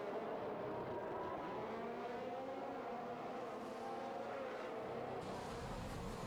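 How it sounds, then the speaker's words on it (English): F1 cars at Suzuka in an F1 esports video game race: a continuous high engine whine from several cars, rising and falling in pitch, steady and moderately loud throughout. "He's not able to keep it on the track as there goes Hulk Smash through up into P5 in this race so far."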